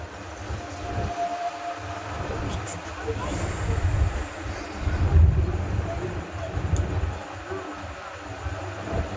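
Thunder rumbles through steady rain, a deep continuous roll that swells loudest around the middle and rises again near the end, with faint voices in the background.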